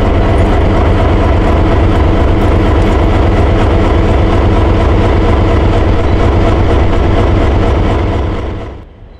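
A South Shore freight train on its East Chicago turn over the CSX Garrett subdivision rumbles past loud and close, with steady rolling rail noise and rhythmic wheel clatter that cuts off abruptly at the end.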